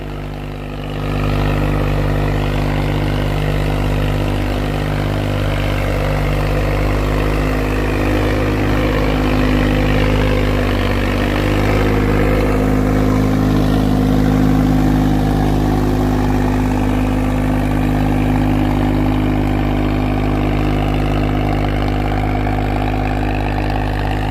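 A Swaraj 744 tractor engine pulling a harrow rumbles loudly and steadily at low pitch, a continuous heavy drone with no talk.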